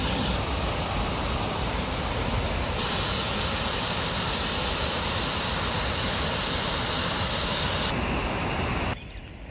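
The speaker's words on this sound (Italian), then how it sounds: "una delle tante cascate che ci sono." One of the many waterfalls on the Leno torrent pours with a loud, steady broadband rush, unbroken for most of the clip before it cuts off abruptly at the end.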